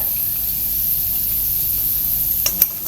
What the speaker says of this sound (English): I'm going to fry all the batches